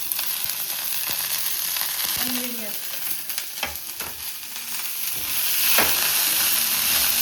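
Mint and coriander leaves frying for a mushroom biryani, a steady close sizzle with scraping stirs running throughout, louder toward the end.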